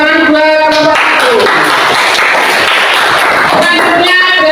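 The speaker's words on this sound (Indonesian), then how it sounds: "tepuk tangan buat kelompok 1" A classroom of students gives a group a loud burst of dense applause that fills the room for several seconds, with voices heard just before and as it fades.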